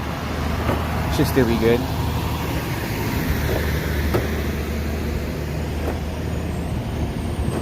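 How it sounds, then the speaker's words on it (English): A truck passes by on a road near a school campus, a loud broad rumble of engine and tyres with a brief hiss like an air brake, as someone talks over it. "this truck's passing by is gonna make a lot of noise"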